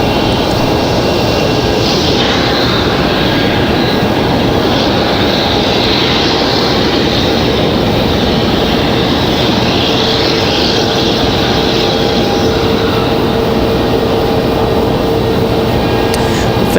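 A FedEx cargo jet passes at Raleigh-Durham International Airport, a loud, continuous engine roar and broadband rush holding steady throughout, with no voices.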